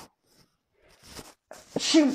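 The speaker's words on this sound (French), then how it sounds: "j'éternue du côté du micro" A single sharp sneeze bursts out close to the microphone near the end, after a quiet stretch broken only by faint breathy sounds.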